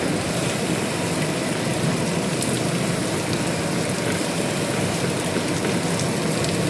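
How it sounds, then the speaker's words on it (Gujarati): Steady heavy rain falls in Ahmedabad as a constant, even wash of noise near the listener, with faint scattered drips and no speech throughout. "વરસાદ ચાલુ હોય બરાબરનો."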